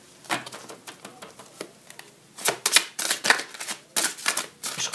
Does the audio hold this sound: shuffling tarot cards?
yes